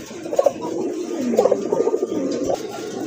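Pigeons coo at a pigeon farm in short, soft, throaty bursts, close by and fairly steady, with no talk over them.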